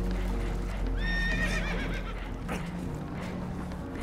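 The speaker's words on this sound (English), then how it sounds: "Horses are spooked" Spooked horses whinny aboard a damaged boat in Red Dead Redemption 2: one shrill, wavering neigh rises early over a steady low rumble of water and hull noise, with no talking.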